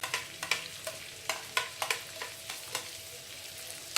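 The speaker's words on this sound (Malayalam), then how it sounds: "കൂടെ ഒന്നിട്ട് വഴറ്റി ഇതിനകത്ത് അരിഞ്ഞു വെച്ചിരിക്കുന്ന സവോള, ഇഞ്ചി, പച്ചമുളക്" Chopped onion, ginger and green chilli sauté in a pan for Punjabi-style shahi paneer, a soft low sizzle broken by a series of sharp spoon scrapes and clacks at irregular intervals, with no voices.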